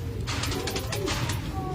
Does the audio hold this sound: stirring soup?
no